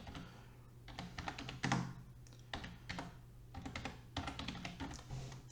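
Document name typed on a computer keyboard: a quiet, close run of quick key taps in short irregular bursts with brief gaps between words, heard alone.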